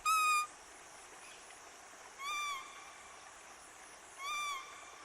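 A man imitates bird calls, made by a forest guardian in Pakke, Arunachal Pradesh: three short whistled, owl-like hoots with rising overtones, evenly spaced about two seconds apart, clear and close against a quiet outdoor background.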